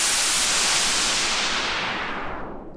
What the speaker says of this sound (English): turn on the low pass filter, it's going to allow the low frequencies to pass through while cutting out the high end. So let's give that a go. Play the white noise.